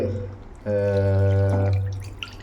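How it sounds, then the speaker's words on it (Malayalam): Water is poured into the leftover gravy of a spicy Kerala chilli tuna fish curry, giving a short steady splashing pour with a bright ringing tone that starts abruptly, holds about a second, then tapers off. "അതിനകത്തുള്ള ഗ്രേവിയിൽ കുറച്ച് വെള്ളം ഒഴിച്ചിട്ട് ആ വെള്ളവും കൂടെ ഇതിൽ"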